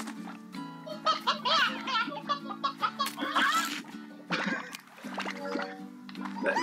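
A cartoonish rooster from the video game Slime Rancher clucks and squawks in a rapid, choppy series of calls, loud and close against a silent game background, with game sound effects mixed in.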